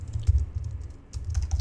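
Typing on a computer keyboard at close range, quick uneven bursts of clicks with a short pause in the middle, no speech.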